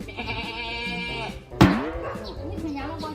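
A man mimics a sheep's bleat near a tethered group of sheep, giving a long wavering bleat, then a sharp knock, then a shorter bleat-like call, all close and loud.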